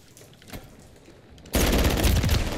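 Gunfire in Call of Duty: Modern Warfare III: after quieter game ambience, a dense burst of loud, rapid shots erupts and keeps going to the end, with no talk over it.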